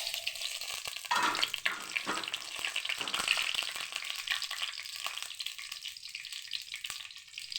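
Mustard seeds, fenugreek, chana dal and urad dal sizzle in hot oil, a busy crackling hiss that swells as ingredients go in and carries steadily at close range without any voices.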